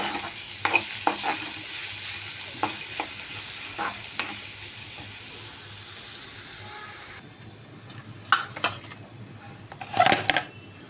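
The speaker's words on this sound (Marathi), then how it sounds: "आता हे चांगलं हलवून घेऊया" Tempering of chillies and turmeric for a fenugreek leaf dish being stirred in a pan, with soft sizzling under intermittent scraping strokes of a spoon, a few louder clatters near the end.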